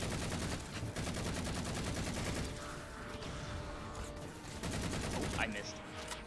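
Rapid, dense weapon fire from a Halo 4 match with a plasma pistol, a continuous rattling burst close up, with a voice speaking over parts of it.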